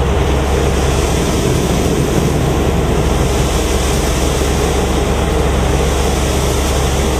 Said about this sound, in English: the shaker is going to extend out, clamp onto the tree, and then shake the tree